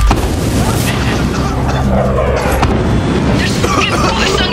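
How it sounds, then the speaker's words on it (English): Gunfire and booming impacts fill a chaotic firefight in Far Cry 6, dense and loud throughout with shouting voices over the top. "There's fucking bullets on everywhere!"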